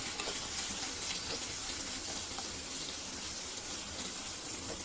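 Tomato pachadi with turmeric sizzles and fries steadily in a pan, a dense, continuous crackle held at even loudness close up with no voices.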